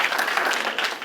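Audience at a junior high winter concert applauds the parents, a dense, steady clatter of many hands filling the room without pause for about a second.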